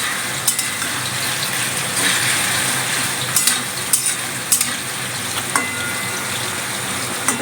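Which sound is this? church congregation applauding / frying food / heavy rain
frying food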